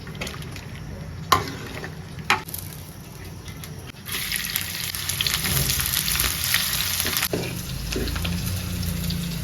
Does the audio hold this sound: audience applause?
no